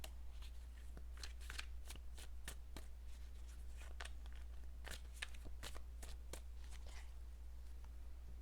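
A deck of tarot cards is shuffled close up, a run of soft riffling snaps and flicks in an irregular rhythm over a low steady hum, quiet and without voices.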